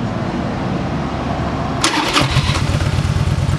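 A 2000 Harley-Davidson Ultra Classic motorcycle with 70,900 miles cranks briefly with a loud starter whine, then its V-twin engine catches and settles into a rapid, throbbing idle, close and loud throughout.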